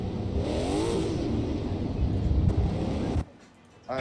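A Corvette race car in Assetto Corsa, during a virtual 24 Hours of Daytona sim race, roars loudly with rising and falling engine pitch for about three seconds before cutting off abruptly.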